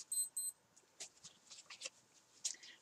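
Wrist watch alarm gives two quick high electronic beeps at the start, faint and close, followed by soft rustling and handling noises.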